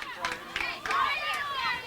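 A softball crowd at a St. Vincent college championship game cheers and shouts in short bursts, near and lively, with voices mixed into the noise.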